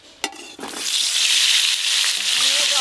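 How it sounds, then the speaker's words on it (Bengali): Pieces of pointed gourd (potol) go into hot oil after a couple of sharp clinks, and a loud, bright sizzle bursts up and keeps crackling steadily close by. "প্রথমে পটলগুলো ভেজে নেব। তেল তো গরম হয়েই গেছে।"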